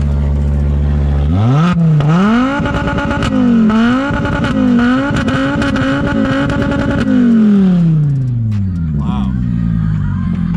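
Modified Volvo engine revving hard, loud and close, rising from idle into a sustained roar with repeated throttle blips, then winding down; a voice briefly exclaims near the end.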